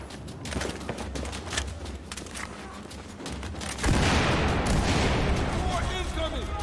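Gunfire in the video game Battlefield 4 crackles in bursts, building into a denser, louder volley partway through, with voices speaking over the shooting.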